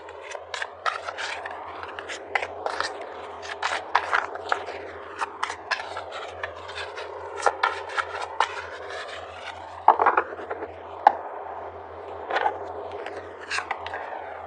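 Tarot cards being pulled and handled from a deck, a series of soft close scrapes, slides and crisp flicks scattered irregularly over a faint steady hum, no talking.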